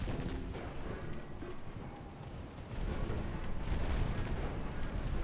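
Sustained booming gunfire rumbles from a 3-inch naval gun in a naval warfare video game, with heavy low-end blasts that grow louder in the second half and no voices.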